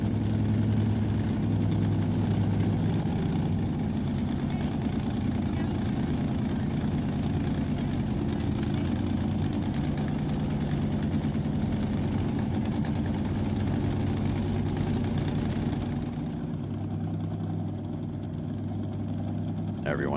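A race car engine idles at El Mirage dry lake, a loud, steady low rumble holding close for the whole stretch and easing slightly near the end, with voices in the background.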